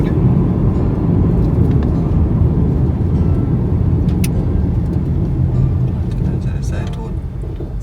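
Steady, loud road rumble from a car driving along a back road just past a toll in Portmore, Jamaica, continuous throughout with low engine and tyre drone, and a voice talking faintly over it.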